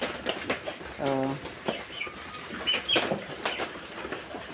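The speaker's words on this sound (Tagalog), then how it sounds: "Nako, napasok ang manok." Chickens that have wandered inside a family home give short clucks and chirpy calls, one brief harmonic squawk standing out, with faint voices and household noise around them.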